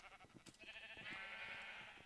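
Minecraft sheep bleat in a drawn-out nasal call that swells in the second half, over faint scattered clicks. It is quiet and carries no speech.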